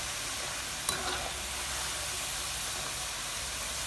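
McDonald's-style french fries fry in hot oil with a steady, dense hiss that stays even throughout, apart from one short sharp crackle near the start.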